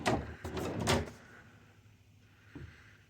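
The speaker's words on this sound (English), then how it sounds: "But soft close on all the drawers." A deep bottom drawer with soft-close runners slides shut with a loud rolling rumble, then eases into a gentle muted thud a moment later, with no voices.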